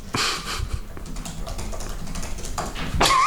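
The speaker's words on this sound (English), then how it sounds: "Well, you type really fucking slow." Fingers typing a message on a computer keyboard, a quick, uneven run of close, clicky keystrokes that goes on steadily with no talking.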